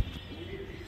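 A pigeon coos softly and steadily for under a second, the low murmur close by with faint background hiss.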